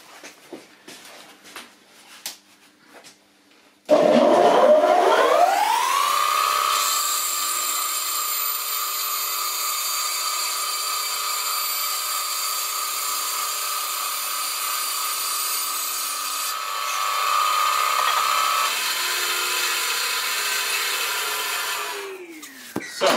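Power saw fitted with a normal woodworking blade cutting off a piece for a camera tripod, a loud, harsh, steady grinding whine that rises in pitch as it spins up, holds for about eighteen seconds, then winds down, with faint handling noises before it starts.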